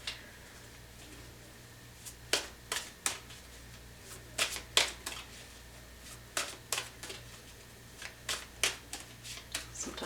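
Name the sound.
shuffling tarot cards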